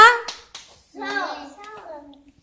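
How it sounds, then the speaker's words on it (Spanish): Children in a reading lesson clap along to spoken syllables, a few sharp hand claps spaced among a voice sounding out a word. "Palmeando todos, venga."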